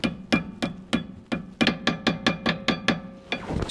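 Metal hammer blows strike Volvo 740 rear brake parts in a repair, about a dozen sharp, loud impacts landing in an uneven, quickening rhythm with no talking.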